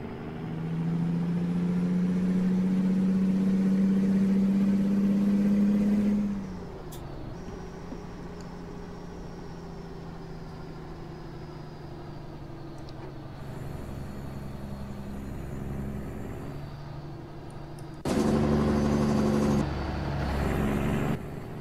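In American Truck Simulator, a Kenworth T800 double-axle truck engine drones loudly as it climbs uphill, then drops to a lower rumble after a gear change before roaring up again near the end, with no speech.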